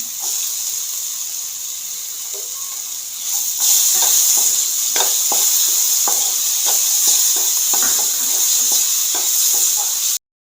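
Tomato, onion and chopped capsicum sautéing in a pan give a continuous bright sizzling hiss that swells louder partway through, dotted with light clicks and scrapes of stirring. No one speaks.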